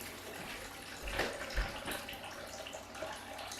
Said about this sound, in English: better wash my hands